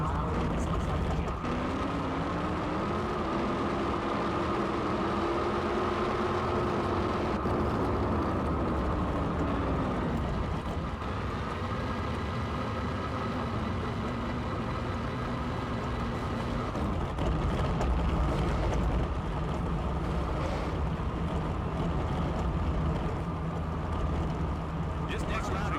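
Drag racing engines in the NHRA Speed For All video game roar in a loud, continuous drone with a rising and falling pitch sweep, while commentary talks over the top throughout.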